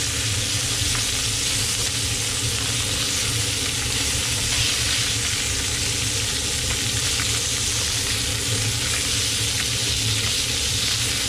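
Red snapper fries in a hot pan, a loud continuous sizzle and crackle with a dense hiss that holds steady throughout, close up and without voices.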